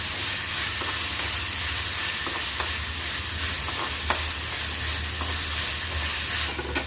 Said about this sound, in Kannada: ಇದು ಸೌಟಲ್ಲಿ ಅಲ್ಲಾಡಿಸ್ತಾ ಇರಬೇಕು.